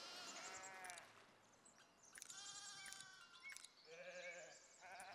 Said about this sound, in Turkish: Anam o nasıl koyun lan öyle?